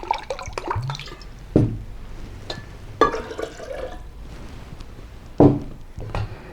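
Three cups of spring water poured into a container for an almond milk base, heard as intermittent splashes and drips with a few sharp clatters, close and fairly quiet, no talking.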